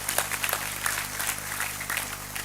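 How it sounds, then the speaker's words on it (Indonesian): Audience applause for two children at a gathering with Cak Nun, a dense crowd of hands clapping steadily at moderate distance for a couple of seconds. "tepuk tangan untuk anak kita berdua"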